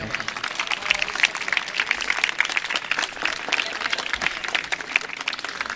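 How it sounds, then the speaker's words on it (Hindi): An audience gives loud, dense applause at a police-line Republic Day parade and cultural programme in Amroha. The many hands clap continuously and close by, steady from start to finish. "जोरदार तालियां बजाएं।"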